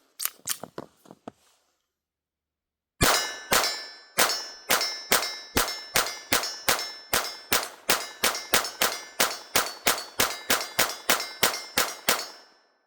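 A Sig P322 Comp .22 pistol fired at steel targets: a short burst of shots, a pause, then a long rapid string of sharp shots, each followed by a ringing metallic clang from the plates.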